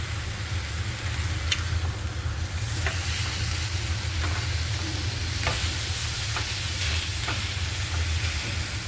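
Continuous loud sizzle of food frying in a pan, close up, with a few brief scraping clicks as the pieces are turned over.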